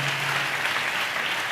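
An audience at a Christian sermon applauds, a steady wash of clapping held at an even level for the short stretch.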